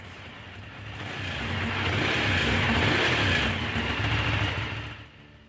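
A Ducati Diavel motorcycle with a Testastretta engine runs steadily near the recorder, a broad continuous engine rumble that swells slightly mid-clip and drops away at the end, with no talking.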